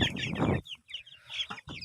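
Young tiger-breed chicks, about twenty days old, cluck and cheep in loud bursts while being weighed on a scale, with a dense flurry of calls at first, then a pause, then scattered shorter peeps.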